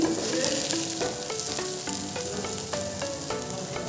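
Onion and garlic frying in a hot pan, a steady loud sizzle with repeated scraping stir strokes throughout, no voices.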